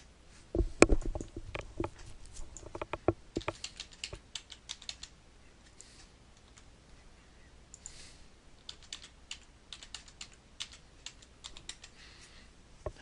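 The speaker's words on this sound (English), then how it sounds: "Okay, so I'll kind of type that backwards." Fingers type on a computer keyboard while a date filter is entered into maintenance-management reporting software, with dense bursts of key clicks at the start, a pause, then scattered keystrokes returning, close and fairly quiet with no talk.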